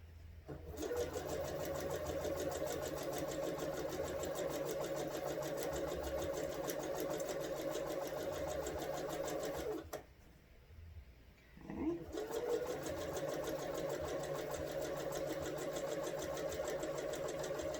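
A sewing machine stitches fabric strips for string piecing, running in a steady, fast, continuous whir with a short pause near the middle before it picks up again.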